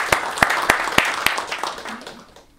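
Audience at a conference marking twenty years in the European Union applauds, a burst of sharp claps that starts loud and steadily thins out and fades over a few seconds.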